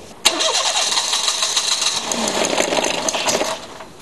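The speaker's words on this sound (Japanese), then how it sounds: "それではセルモーターを回してみます" A starter motor cranks an engine for about three seconds, starting with a sharp click and followed by a steady, fast, whirring churn. It is close and loud, then cuts off abruptly, with no voices.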